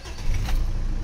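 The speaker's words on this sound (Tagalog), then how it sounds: "Ignition on, engine start." A Mitsubishi Montero engine cranks and catches in a brief, close burst of low rumble and mechanical clatter, loud and alone.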